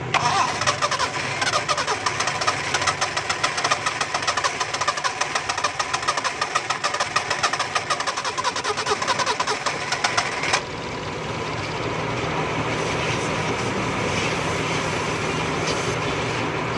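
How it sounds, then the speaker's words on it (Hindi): A car engine that would not start after an engine wash cranks and fires, running loud and rough with a rapid knocking chatter, then settles into a steadier, smoother idle close by. "गाड़ी स्टार्ट हो गई है।"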